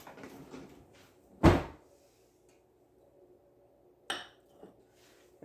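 A metal pan handled on a kitchen stove while butter is added, a couple of sharp clanks and knocks with a quiet pause between them, close and clear with no talk.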